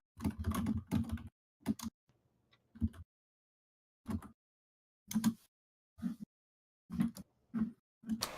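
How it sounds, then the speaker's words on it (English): Computer keys clatter in irregular bursts over a voice chat line, short flurries of clicks separated by silent gaps, close and fairly loud. "Until then, enjoy the keyboard sounds."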